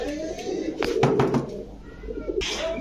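A king pigeon at a pigeon seller's stall coos in low, throaty phrases close by, mixed with a few knocking sounds and a person talking in the background.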